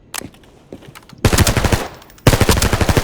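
PP19-01 submachine gun firing 9x19 rounds in Arena Breakout: Infinite, heard as two loud bursts of rapid automatic fire, each lasting about a second, after a quieter stretch of scattered distant shots.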